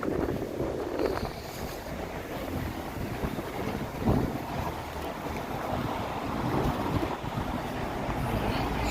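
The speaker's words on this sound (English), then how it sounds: "Fucking wind." Strong wind buffets a microphone outdoors, a continuous loud rushing roar with gusty swells and no voices.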